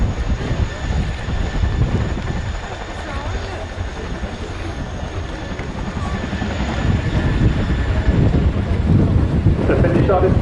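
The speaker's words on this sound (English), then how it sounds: "make some noise so that they can hear you over the thunderous sound of the Chinook's roar" A Chinook twin-rotor helicopter displays at the Royal International Air Tattoo at RAF Fairford. Its loud rotor roar and steady thudding fill the whole stretch and build slightly near the end, while an announcer talks over it.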